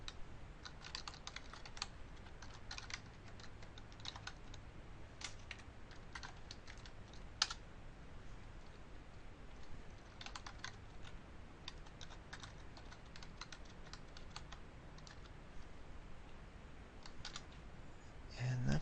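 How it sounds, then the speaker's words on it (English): A username and password are typed on a computer keyboard as rapid, uneven clusters of soft keystroke clicks, quiet and close, with brief pauses between bursts. "here we're just going to enter in our username and password"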